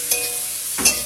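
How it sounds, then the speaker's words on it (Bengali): Chowmein being stir-fried with onion and soy sauce in a home kitchen: two distinct scraping strokes of a spatula against the pan over a soft background sizzle, close and clear, with no speech. "এখানে চাউমিন বানাচ্ছে"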